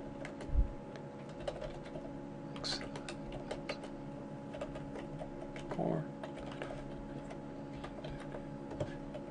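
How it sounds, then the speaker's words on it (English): Typing on a computer keyboard, with faint, scattered key clicks over a steady low hum, quiet and close, with a few louder taps standing out. "And I'm going to type in some information."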